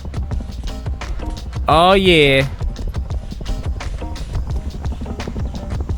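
Horse hooves clop in a steady galloping rhythm in the survival game Rust, close and loud, with a brief whinny cutting in and someone speaking over it.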